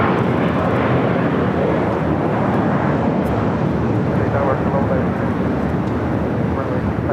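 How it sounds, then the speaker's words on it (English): An All Nippon Airways Boeing 787-9 Dreamliner taking off from LAX bound for Tokyo Narita, a loud, continuous jet engine roar that holds steady and broad throughout, heard from nearby. "This is All Nippon Airways Flight 5 taking off to Tokyo Narita on the 787-9 Dreamliner"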